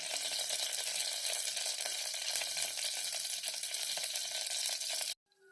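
Onions sizzle and fry steadily in hot oil in a pan while kulambu is being made, a continuous close hissing crackle that cuts off abruptly near the end.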